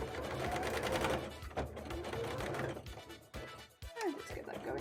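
A sewing machine runs a zigzag stitch over pink fabric while making a bra, heard as a continuous close mechanical whirr in several stretches with short breaks between them.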